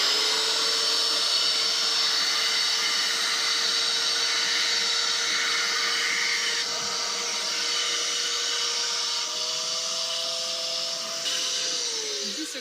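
A vacuum blower used for sowing seeds onto seeding trays runs steadily for the whole stretch, a loud continuous motor whine with a high, even tone, shifting pitch slightly near the end.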